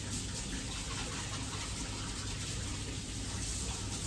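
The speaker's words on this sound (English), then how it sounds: "after I wash my hands" Water runs steadily from a kitchen tap during handwashing, a continuous close rushing hiss with no break.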